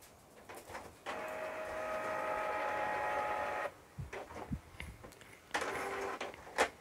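A Canon printer showing error 5100 whirs as its mechanism moves, a steady mechanical drone for a few seconds, then clicks and knocks before another short whirring burst.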